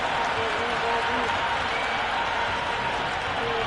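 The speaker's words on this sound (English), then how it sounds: "Will you listen to that crowd? They are loving this." Cricket stadium crowd at an IPL T20 match, RCB vs SRH, roaring and applauding after a six; a steady, dense wall of crowd noise holds evenly throughout.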